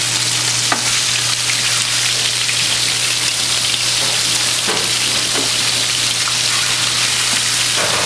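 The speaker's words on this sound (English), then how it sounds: "We just take the beef, put it in a hot pan," Beef filet sears in a hot pan, giving a loud, continuous close-up sizzle with occasional crackles and spits over a low steady hum, no talking.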